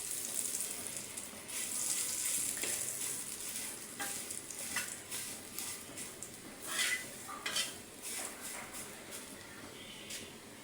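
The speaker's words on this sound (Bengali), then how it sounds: "এখন আমি নেড়ে চেড়ে নিচ্ছি" Dried, chopped jute leaves are stirred as they fry in a pan, with a soft steady sizzle under repeated scraping and clinking of a utensil against the pan, close and moderately quiet.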